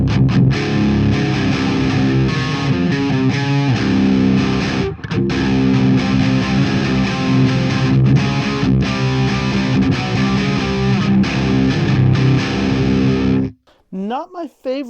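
An electric guitar played through a Crate GX130C amp on a high-gain crunch setting, dense distorted chords and riffs ringing loud and sustained for most of the stretch before cutting off near the end.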